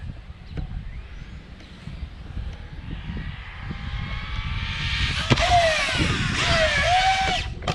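Arrma Typhon RC car launching off a ramp at a park, its electric motor whining up steadily in pitch and loudness, with a sharp knock near the end as it hits the ramp or lands.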